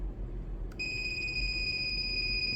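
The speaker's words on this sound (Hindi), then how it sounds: "देख सकते हैं यहाँ पर बजर बज रहा है, मतलब यहाँ से यहाँ जो कनेक्टिविटी है वो ठीक है" Continuity buzzer of a multimeter testing connections on an outdoor air-conditioner PCB, a steady high-pitched electronic beep that starts abruptly and holds for a couple of seconds over low background hum.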